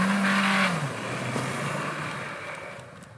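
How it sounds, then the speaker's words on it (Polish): A Hyundai Tucson pulls out onto a main road in a light drift, its engine revving briefly with a short tire squeal, then easing into a fading roll of road noise. "Ja spróbuję tutaj wyjechać ładnie do drogi w lewo, tak żeby go lekko zarzucić"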